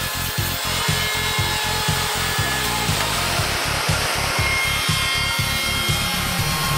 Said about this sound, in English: Difficult and expensive joints, such as this scarf joint, can be called up as a macro with the push of a button and can be cut quickly and precisely